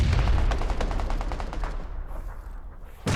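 Rapid bursts of automatic gunfire in PUBG during an esports championship match, a loud, fast rattling volley that stops midway, followed by a brief lull and one more sharp shot at the end.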